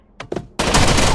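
Two quick gunshots in a video game, followed by a loud sustained burst of fire or explosion that fills the rest of the moment, close and harsh.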